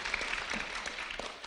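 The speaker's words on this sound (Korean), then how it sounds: "박수 부탁드릴게요." An audience at a civic social-economy idea presentation applauds a panel member, steady clapping from many hands filling the room for the whole moment with no talk.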